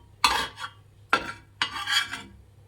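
A spatula pressing and scraping bread in a pan while it roasts for a bread omelette, three distinct rasping scrapes close up with quiet pauses between.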